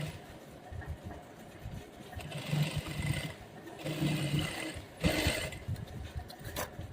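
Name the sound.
sewing machine stitching a folded fabric hem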